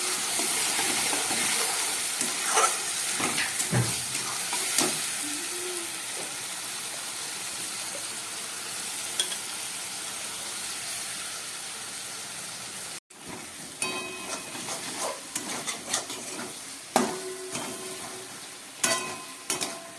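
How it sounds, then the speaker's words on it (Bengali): Spice paste sizzles in a pan with fried potatoes and onions for a Bengali ritha tengra fish kosha, a steady soft hiss broken by occasional scraping stirs and utensil clinks, close and without talk. "আলু পেঁয়াজটা ভাজা হয়ে গেছে, আমি এর মধ্যে পেস্ট করা মশলাগুলো দিয়ে দিচ্ছি।"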